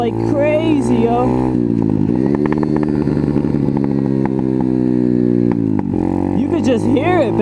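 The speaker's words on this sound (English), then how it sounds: "Just hear it backfiring like crazy." Apollo RFZ pit dirt bike engine idling and revving up close, loud and continuous, with sharp crackling pops from backfiring breaking through the rough drone; a voice speaks over the engine.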